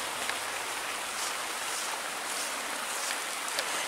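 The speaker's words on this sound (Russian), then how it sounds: "Сейчас дождь пошел, а была такая жара." Rain falls steadily in a summer garden, a dense, even hiss of drops on surfaces that stays constant throughout without voices.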